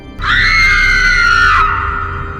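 A woman lets out a single loud, high scream that holds steady for over a second and then cuts off, leaving a faint room tone behind.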